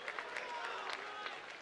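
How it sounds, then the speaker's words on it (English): Crowd applause for two fight semi-finalists at a MTGP x Road to ONE combat event at Indigo at The O2, London, a steady wash of clapping across a large audience, moderately distant and filling the room. "let's have a massive round of applause for our Road to One semi-finalists"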